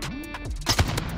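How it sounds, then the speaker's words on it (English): Short burst of MP7 submachine gun fire in the Warzone video game, a few sharp shots clustered near the end of a brief moment, fairly close and loud over game ambience. "Did we both just shoot that kid at the same time?"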